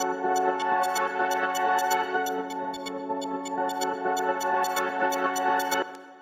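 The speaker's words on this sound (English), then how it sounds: "This is an actual pad, and this is what that sounds like." Serum's stock D-Pad 1 synth pad holds sustained, bright layered chords that flicker with a fast rhythmic shimmer, fairly loud and steady, then cut off near the end, with no talking.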